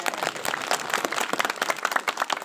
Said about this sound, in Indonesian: Tepuk tangan untuk Sumedang.